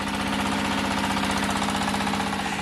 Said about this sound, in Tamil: டீசல் இன்ஜினில் இயங்கும் ஃப்ளை ஆஷ் பிரிக்